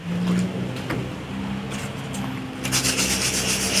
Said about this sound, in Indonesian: Saya gosok dulu dia supaya gum tuh melekat betul-betul.